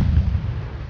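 A P-16 tank firing its gun in a World War II war game set in May 1940, a single deep low boom with a rumbling decay, brief and fairly loud.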